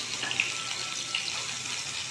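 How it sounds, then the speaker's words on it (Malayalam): Water poured into roasted semolina for upma gives a steady, moderately loud splashing rush that runs the whole time, alone with no voices. "നല്ലപോലെ വറുത്തായാൽ വേണ്ട വെള്ളം ഒഴിക്കുക"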